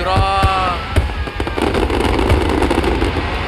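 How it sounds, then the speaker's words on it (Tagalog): Chinese New Year fireworks over Binondo and Intramuros burst in rapid, loud pops and crackles, with dense overlapping explosions and a few faint voices in the crowd. "Yan, nakita nyo na yung fireworks."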